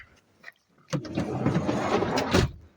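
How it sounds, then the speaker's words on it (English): The sliding side door of a 2009 Honda Odyssey minivan rolls shut on a repaired middle door roller, a close rumbling slide lasting over a second and ending in a thud, with a faint click beforehand. "That's a shut door."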